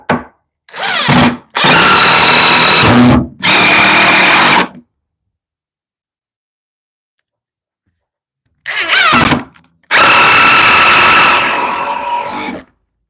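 A power drill drives crossed, toenailed screws into the wood of a bench under construction, loud and close in several sustained whirring bursts of one to three seconds, with a long quiet gap midway.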